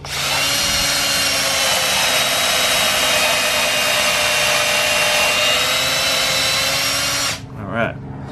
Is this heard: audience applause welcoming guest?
no